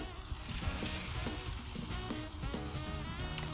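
Beef teriyaki skewers with tiki garlic glaze sizzle steadily on the heat, a dense continuous frying crackle with no voices over it.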